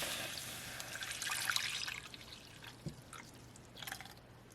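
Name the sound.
pouring milk, nutmeg and cinnamon mixture into eggnog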